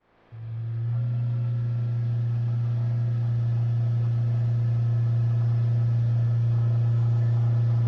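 A car engine drones steadily at a low, constant pitch during an accelerator test, starting abruptly and holding loud and unchanging for several seconds without climbing, as if held at fixed revs.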